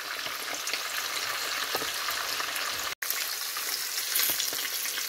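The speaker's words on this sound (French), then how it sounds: "Laissez la viande bien sécher dans l'huile." Meat frying in oil for Senegalese tiébou yapp fills the clip with a loud, close, continuous sizzle and crackle, with occasional stirring sounds and one brief cut near the middle.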